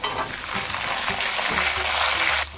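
Whole shallots dropping into hot oil with frying ginger and garlic, a steady close sizzle with faint stirring throughout for Kuttanadan-style beef roast, ending abruptly near the close.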